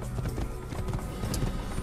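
Rapid clip-clop hoofbeats of a horse galloping in the Assassin's Creed video game, continuous and fairly close throughout the short stretch, heard alone without talk.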